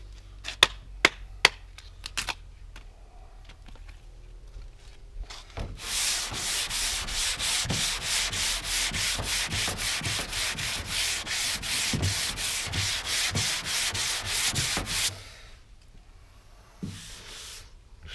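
A sanding block rasps back and forth over Bondo body filler on a 1978 El Camino SS, a run of quick, even scrubbing strokes, with a few taps before and a faint stroke after.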